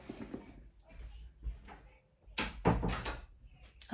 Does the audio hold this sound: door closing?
yes